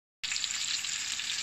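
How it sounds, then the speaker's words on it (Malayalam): Cashews and raisins frying in butter give a steady, bright sizzle that starts abruptly after a brief silence and then holds even and close for the rest, with no voices. "നമുക്കിതിലേക്ക് കുറച്ച് കശുവണ്ടിയും ഉണക്കമുന്തിരിയൊക്കെ നന്നായിട്ടൊന്ന് വറുത്തെടുക്കാം."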